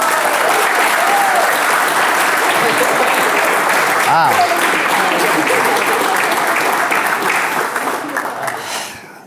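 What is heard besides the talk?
wedding ceremony guests applauding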